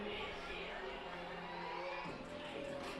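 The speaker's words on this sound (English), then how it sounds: "to a raucous ovation from a lively crowd here in Mooresville, North Carolina" Lively high school football crowd in Mooresville, North Carolina cheering at a Cox Mill at Mooresville game, a continuous roar with whoops and shouts under open-air noise.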